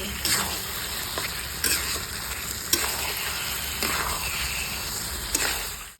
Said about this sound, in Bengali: এবার এখানে আমি চিকেনটা দেবো